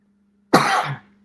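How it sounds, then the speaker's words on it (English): A single harsh cough bursts out loud and close after a quiet moment, a rough, breathy rasp fading within half a second, with the start of another sound at the very end. "Coughing spell."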